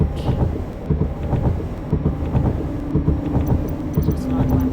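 Heavy rain hisses steadily in Microsoft Flight Simulator with an Airbus A220 on the Riga–Tallinn route in high winds, while low thunder rolls and thumps repeatedly underneath, loud and close throughout.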